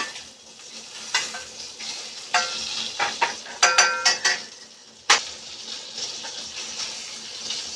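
Filet mignon sizzles steadily in a hot pan while being basted, a soft frying hiss broken by sharp clinks and scrapes of a spoon against the pan, with no talking.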